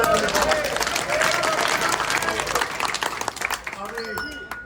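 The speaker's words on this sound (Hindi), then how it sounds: "जोरदार तालियां बजाएंगे" Loud crowd applause at a village gathering in a large village, dense clapping that swells and then thins toward the end, with voices and someone speaking mixed in over it.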